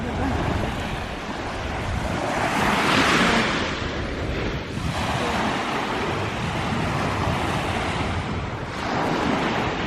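Waves surge and wash continuously while wind buffets the microphone, with a louder swell building midway.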